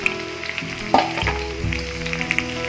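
Turmeric, asafoetida, chutney and sesame seeds dropped into hot oil, crackling and sizzling steadily with a louder burst near the start as the spices hit the pan, no talking.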